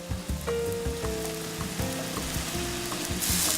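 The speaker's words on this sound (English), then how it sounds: "I'm going straight out of the pot into the next pot." Pasta with uni transferred from a pot into a hot pan, bursts of sizzling and frying with clinks and scraping of utensils against cookware, close and lively, no voices.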